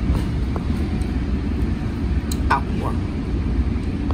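Vibration rumble inside a moving Tri-Rail commuter train, a loud, steady low-pitched roar that fills the whole stretch, with a brief exclamation from a voice partway through.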